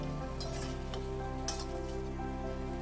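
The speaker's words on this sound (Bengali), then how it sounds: "ভেজে রাখা আলুগুলো মাংসের মধ্যে দিয়ে আলুগুলোকেও বেশ খানিকক্ষণ সময় ধরে মাংসের সাথে কিন্তু কষিয়ে নিতে হবে" Fried potatoes are stirred and sizzled together with mutton in a pan for a Bengali mutton curry, giving a continuous soft frying hiss with light spatula scrapes, alone and fairly quiet.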